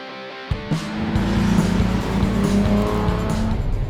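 A Ford Mustang V6 engine fires up and settles into a loud, throaty idle with rising revs, rumbling steadily close by.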